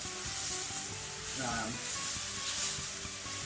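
Shrimp fried rice sizzles steadily in a hot pan, a continuous frying hiss with faint stirring scrapes and a voice murmuring underneath.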